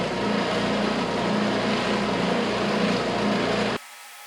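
A Ridgid oscillating edge belt/spindle sander runs with a steady, loud broadband whir and hum, then cuts off abruptly near the end, leaving near silence.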